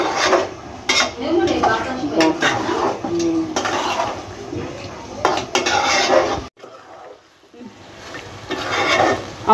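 Meat with spices is stir-fried in a pot, the spoon scraping and clattering steadily against the metal up close. There is a brief pause, then the stirring starts again.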